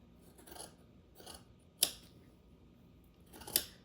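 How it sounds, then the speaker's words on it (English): Scissors snip down through a sewn fabric seam on a detachable sleeve, four separate cuts at an even pace, two soft crunches followed by two sharper metallic snips, close and isolated in a quiet room. "you're gonna cut through down through the middle, like so"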